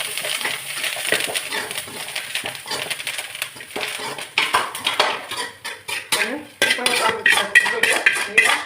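Spices are tempered in a pan for sambar, giving a continuous busy crackle and spatter with metallic clinks and clatter of utensils throughout.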